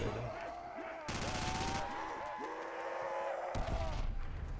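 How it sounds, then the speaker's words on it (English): Two short, loud bursts of gunfire and explosion noise from Call of Duty: World at War, where a sentry gun is destroyed, with a voice talking between the blasts. "Sentry just blew up on me."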